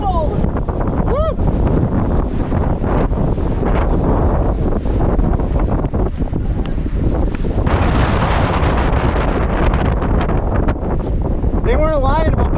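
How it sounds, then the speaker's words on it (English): Strong mountain wind gusts, around 45 miles an hour, batter the microphone above tree line, a loud continuous roaring buffet with brief shouted voices near the start and end. "They weren't lying about the 45-mile-an-hour gust."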